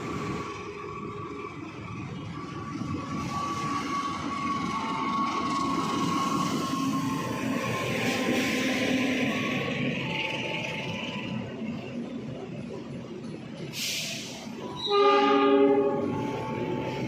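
A commuter train rolls into track 6 at Jatinegara station bound for Bekasi, a long steady rumble of wheels and cars with tonal hums, then a sharp screech and a loud multi-tone horn near the end.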